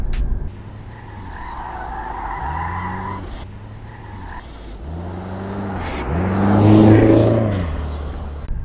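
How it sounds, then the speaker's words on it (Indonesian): A Subaru WRX STI hatchback's boxer engine gives a deep, throbbing rumble rising and falling in repeated revving pulses, growing louder toward the end with a burbling, uneven exhaust note. "Subaru Boxer Rumble"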